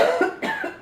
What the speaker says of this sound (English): Getting a nasty cough past couple days.